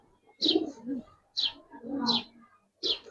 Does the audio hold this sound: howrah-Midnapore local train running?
no